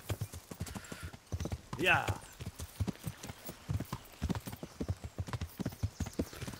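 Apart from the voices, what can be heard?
horse hooves while riding in Kingdom Come: Deliverance video game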